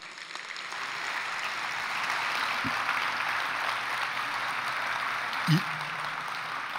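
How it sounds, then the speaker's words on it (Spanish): Seated listeners at a religious conference session applaud after a talk, a soft, even hiss of many hands clapping at some distance, with a couple of brief louder knocks. "Yo creo que merece un aplauso mucho más fuerte que eso"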